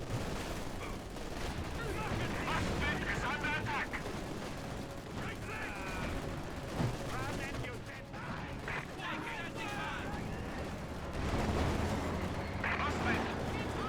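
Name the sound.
gunfire in a firefight, Company of Heroes 2 video game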